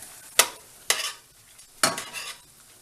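Three short scraping strokes of a spoon through a char siu pork mixture in a pot, each a quick bright scrape with soft sizzling between them, close and fairly quiet.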